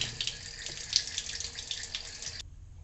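Tap water runs steadily over chicken and vegetables being washed in a kitchen, a close, continuous splashing stream that cuts off abruptly near the end.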